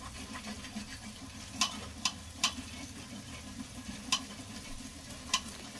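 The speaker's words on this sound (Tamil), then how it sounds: "தக்காளியை சேர்த்துட்டு நல்லா கொஞ்சம் அது வதங்க வரைக்கும் நல்லா வதக்க விட்டுடுவேன்" Tomatoes sautéing in a pan for village-style dum biryani: a steady low sizzle runs throughout, broken by about five sharp spatula scrapes spaced unevenly, close and fairly quiet.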